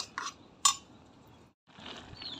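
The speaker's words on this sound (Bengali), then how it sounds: "এখন ঢাকনা দিয়ে দিব" A lid is set onto a cooking pot of shrimp and pumpkin-greens curry, giving a couple of sharp metallic clinks near the start, then a quiet stretch and soft kitchen rustle.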